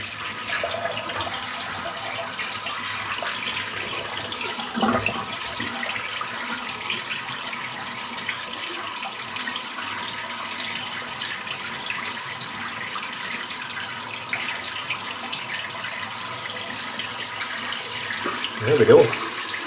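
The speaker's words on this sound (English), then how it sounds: "Oh, a nice splash of ice cold water." Water from a tap runs steadily into a sink during a shave, a soft, even hiss close by, with a small splash near the end.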